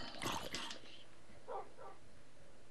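Dog barks a few times in Minecraft, a short bright burst of yips near the start and two softer barks later, over faint game ambience.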